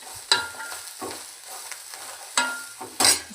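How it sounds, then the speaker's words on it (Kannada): Coriander leaves with rock salt lightly frying in a pan for a quick chutney, stirred in a few sharp scraping strokes over a faint, steady sizzle; no voices. "ಕೊತ್ತಂಬರಿ ಸೊಪ್ಪು ಹಾಕ್ಕೊಂಡು ಚೆನ್ನಾಗಿ ಸ್ವಲ್ಪ ಲೈಟ್ ಫ್ರೈ ಆಗೋವರೆಗೂ ಫ್ರೈ ಮಾಡ್ಕೋಬೇಕು"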